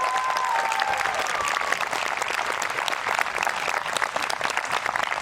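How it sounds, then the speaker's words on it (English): Sustained applause from an audience at an 8th grade promotion ceremony for a charter school's class of 2021, dense steady clapping filling the room throughout with a faint murmur of voices underneath. "Give them a round of applause."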